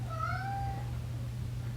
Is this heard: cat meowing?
yes